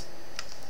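A few quick keystrokes on a computer keyboard, close and quiet against a steady room hiss, with one brighter clack near the middle and another softer tap near the end.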